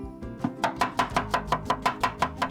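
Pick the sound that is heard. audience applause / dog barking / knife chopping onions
knife chopping onions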